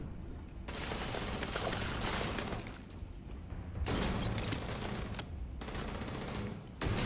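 Sustained automatic gunfire rattles through combat in the Starfield video game, arriving in long, loud, close bursts separated by brief pauses, with crackling impacts mixed in.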